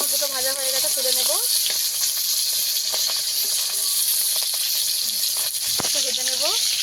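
Fish frying in oil, a continuous close sizzle with small crackles, under a woman's speech at the start and end.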